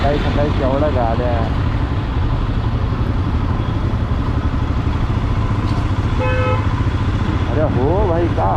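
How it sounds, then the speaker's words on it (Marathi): Vehicle horns honk on a busy road near Panvel, a pair of short toots near the start and another burst toward the end, all over the steady roar of motorcycle engine and wind, with voices murmuring underneath. "का हॉर्न वाजवतो उगाच."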